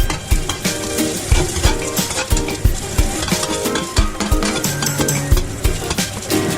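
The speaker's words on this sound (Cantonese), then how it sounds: "落薑落去，" Ginger and shallots sizzle in a hot wok with a steady frying hiss, while a spatula scrapes and stirs in quick, repeated strokes close by, and no voices are heard.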